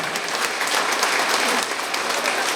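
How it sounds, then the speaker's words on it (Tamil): Sustained audience applause at a student felicitation ceremony in honour of ALP students, a dense, even clapping that stays loud and close from start to finish with no voices on top. "இந்த உழைப்பாளர் தினத்துக்கு முதல்ல கல்லீரலுக்கு கைத்தட்டுங்க எல்லாரும்."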